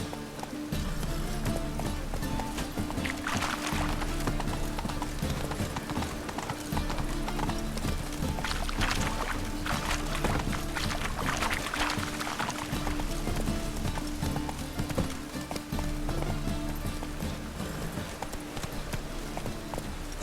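Roach the horse gallops in The Witcher 3 game, hooves beating in a fast, steady clip-clop rhythm over continuous movement noise, with a faint voice and a brief whinny-like sound underneath.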